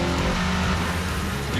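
A 2015 Ford Escape accelerates hard, its engine and road noise forming a loud, steady roar, with a voice heard alongside.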